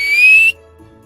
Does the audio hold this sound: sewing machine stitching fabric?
no